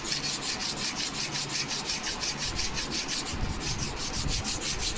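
A sanding block rubbing along the leading edge of a balsa model aircraft wing, fast regular back-and-forth scrapes in a steady rhythm, close and continuous with no voices.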